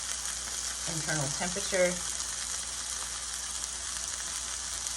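Steady, close sizzling of Greek chicken frying in a pan, a constant hiss filling the whole stretch while someone speaks briefly over it.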